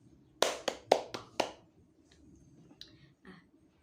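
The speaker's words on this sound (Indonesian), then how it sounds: "Nah, mari kita tepuk tangan buat kita semua." A classroom group in an Indonesian primary school maths lesson gives a short burst of hand claps, five sharp claps close together, followed by quiet room sound with faint voices.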